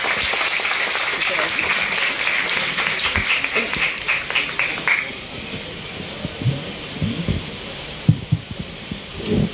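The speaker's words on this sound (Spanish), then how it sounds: "un aplauso para los escritores" Audience applause for the writers at a book launch, a dense clapping wash for about five seconds that then thins into scattered claps and murmuring voices.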